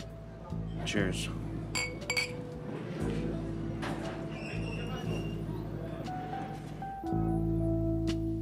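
Glasses clink together in a toast with a couple of bright, sharp chimes near the start, under a steady indoor murmur of talk.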